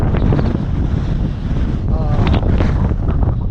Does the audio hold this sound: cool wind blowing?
yes